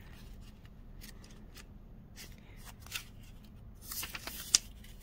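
Pages of a tarot guidebook are flipped by hand, making soft, quiet papery rustles that grow into a busier flurry of crisp flicks toward the end.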